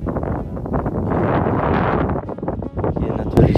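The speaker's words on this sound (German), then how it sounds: "Und zwar ist es hier mega windig." Strong wind buffets the microphone in a loud, continuous roar, with a voice talking over the gusts.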